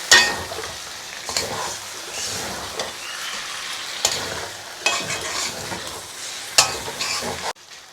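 Duck meat fries with spices in a hot pan, with a steady loud sizzle broken by repeated scraping stirs of a spatula against the pan. No one speaks.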